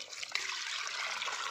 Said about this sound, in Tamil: நம்ம தண்ணி ஊற்றி போய் காட்ட போகிறோம்.